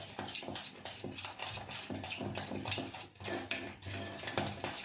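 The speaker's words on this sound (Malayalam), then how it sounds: "അപ്പോൾ നന്നായിട്ട് മിക്സ് ചെയ്യും കേട്ടോ" Homemade natural shampoo being mixed in a container, a faint, continuous run of soft scraping and clinking strokes repeating at an irregular pace with no voices.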